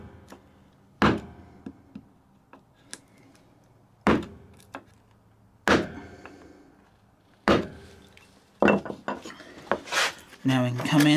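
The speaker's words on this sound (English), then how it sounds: "come in with our wider chisel right up against that knife line, because we're already cut right on it" Wide chisel driven into wood along a knife line while cutting a stopped dado, giving a series of sharp, close knocks and taps at irregular intervals with quieter scraping between them.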